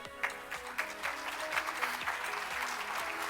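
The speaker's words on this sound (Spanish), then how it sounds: "Bienvenido, Jordi, un fuerte aplauso para él." Audience at Cirion Forum 2024 in Mexico claps to welcome speaker Jordi Morales, a steady roomful of applause with some sharper individual claps standing out near the start.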